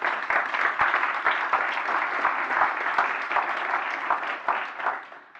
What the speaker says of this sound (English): Maybe a big applause for these two groups.